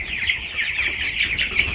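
Chickens clucking inside a barn, a batch of young birds soon bound for a chicken tractor out in the field; a steady, fairly close chorus of overlapping clucks and peeps with no talk.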